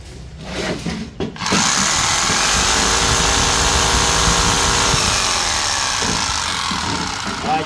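A repaired power saw, a reciprocating saw, starts after a few clicks and runs with a steady, loud, close motor whine for several seconds.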